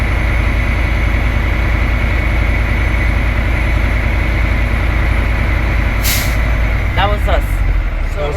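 A truck's air system reaches governor cutout, with a sharp burst of hissing air cutting through the loud, steady rumble of the running engine, followed by a voice speaking briefly near the end.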